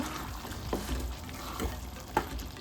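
Chana aloo masala of chickpeas and potatoes being stirred and mixed in a pan, soft scraping and low sizzling with a few sharper spoon clinks, close and quiet with no voices.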